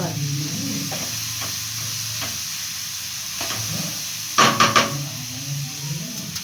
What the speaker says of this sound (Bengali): বেগুন ভাজা হলো